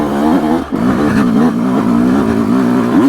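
Yamaha YZ125X two-stroke dirt bike engine running in second gear without clutch, loud and close with a continuous buzzing drone that wavers slightly in pitch, no talk.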